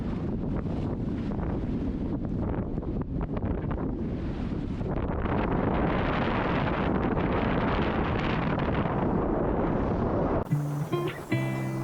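Strong Mistral wind buffets the microphone aboard a sailboat underway, a loud, continuous gusty roar mixed with rushing water that ends abruptly in a quieter tonal hum.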